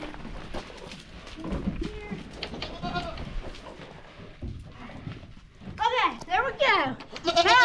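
Several goats bleat loudly and close together in quick wavering cries toward the end, after a stretch of shuffling and hoof sounds with people talking nearby.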